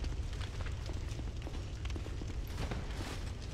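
A bonfire roars and crackles in the video game Dark Souls II, a dense, low rumbling burst of flame with scattered pops, steady and moderately loud throughout.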